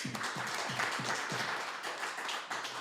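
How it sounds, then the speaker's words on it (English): Live show audience applauding, a steady wash of clapping with rhythmic low thumps throughout, moderately loud and continuous. "Can I get a round of applause?"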